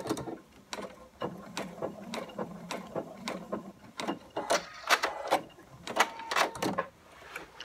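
A sewing machine stitches a fabric placemat, sewing forward and then in reverse, giving a close series of clicking, clattering mechanical bursts with irregular pauses and no voices.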